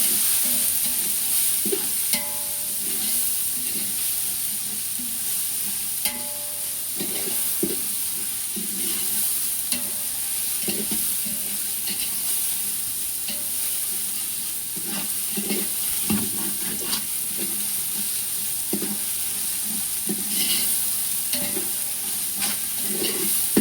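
Ginger garlic paste and onions fry in a large pot for a two-kilo chicken biryani, a continuous close sizzle under steady stirring, with repeated scraping and knocking of the spoon against the pot.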